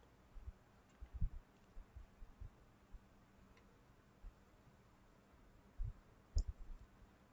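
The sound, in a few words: computer mouse click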